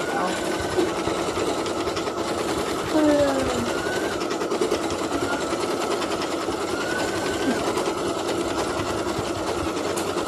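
A machine stitching Halloween witch buckets runs with a loud, steady, rapid mechanical whir and needle chatter, close by, while a voice talks over it.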